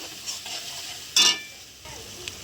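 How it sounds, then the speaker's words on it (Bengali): Cumin seeds, coconut, tomato and ginger masala frying in a pan, a soft hiss under occasional stirring scrapes with one sharp, brighter burst midway. "গোটা জিরে দিয়ে দিলাম, নারকেল, টমেটো, আদা সেই মশলাটা ভালো করে কষিয়ে নেব।"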